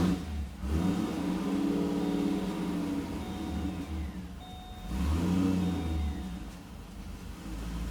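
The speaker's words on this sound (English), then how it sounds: "car is running now, obviously." A supercharged Pontiac G8 engine running on E85 fuel starts and revs, surging twice to a louder whine and settling back toward a steady idle, close to the microphone.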